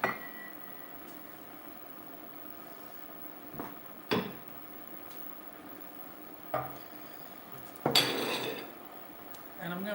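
Pots, pans and a lid clatter sporadically while salmon, shrimp and rice are cooked for dinner, with a few sharp clanks and a longer rattling burst standing out over a quiet kitchen background.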